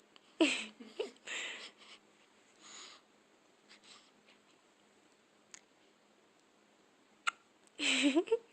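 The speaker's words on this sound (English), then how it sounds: "You have the hiccups?" A baby girl hiccups several times, with sharp little gasps spread across a quiet room, some bunched near the start and another strong one near the end.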